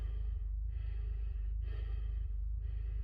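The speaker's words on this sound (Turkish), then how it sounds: "Orada bir şey var ve nefes alıyor." In the horror video game Deppart Prototype, an unseen creature breathes in slow, rhythmic breaths, about three, each a soft hiss over a steady low rumble, quiet and eerie with no talk.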